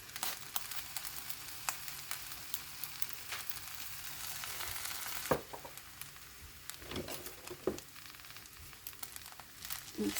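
Fried rice sizzles steadily in a hot pan after soy sauce is added, a dense crackling hiss broken by scraping stirs and a few sharper spatters, with no voices.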